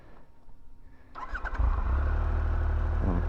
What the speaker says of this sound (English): we'll get the bike started